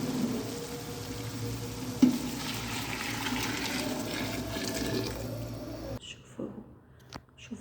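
Hot water pours steadily into a pot of coriander for a homemade broth, a continuous splashing gush lasting about six seconds before stopping abruptly, followed by a few faint kitchen clinks.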